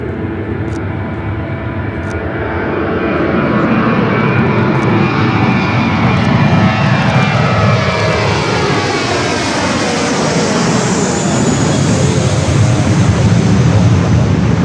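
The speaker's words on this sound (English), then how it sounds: "Blue Monster taking off to Boston" A JetBlue airliner taking off from LAX, bound for Boston, produces a loud, steady jet roar that swells and shifts in pitch as the aircraft accelerates down the runway and climbs past.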